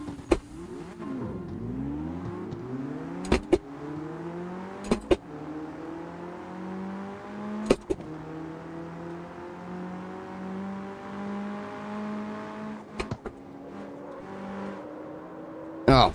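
A car engine in a racing video game revs up through the gears, its pitch sweeping upward after each shift with sharp clicks between changes, loud and close.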